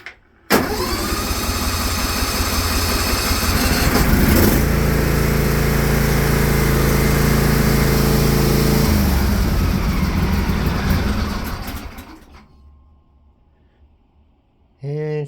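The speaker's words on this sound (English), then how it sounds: "Briggs & Stratton 24 horsepower new. Let's see how easy she starts." A new Briggs & Stratton 24 horsepower engine with automatic choke cranks in the cold, catches and roars into a loud, steady run. It then fades down and stalls near the end, followed by a brief restart burst.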